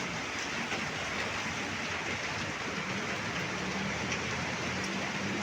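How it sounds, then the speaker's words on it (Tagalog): Steady rain at night around 1:15 in the morning, a dense even hiss with no breaks, moderately loud and continuous, no talk. "Maulan ang panahon."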